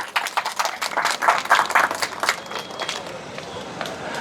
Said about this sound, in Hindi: तो जोरदार तालियां हो जाए सौरभ भाई के लिए।